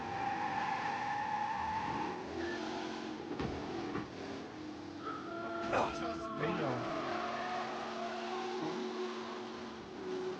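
A car engine drones and revs in a police pursuit in the Mafia video game, with shifting engine tones, a brief tire squeal and passing sweeps, under game dialogue.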